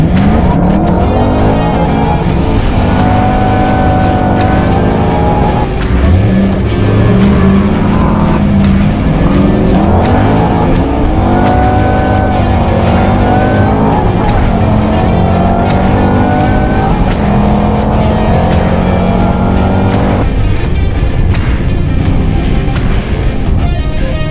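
Loud, continuous car engine noise runs throughout, with rising and falling harmonic sweeps that suggest hard acceleration and gear changes. Rough, full-band roar with no speech.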